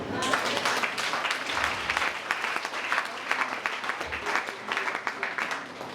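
Congregation at a Pentecost church service in Guinea breaking into sustained applause, dense clapping with a few voices rising over it, steady and fairly close for the whole stretch.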